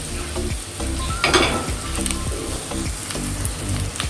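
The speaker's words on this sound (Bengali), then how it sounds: "পেঁয়াজগুলো হালকা নরম হয়ে আসলে আমি সবগুলো একসাথে মিশিয়ে একটু ভাজবো।" Onions fry and sizzle loudly in a pan for a noodle dish while a spoon stirs them in quick repeated scrapes, the crackling steady and close throughout.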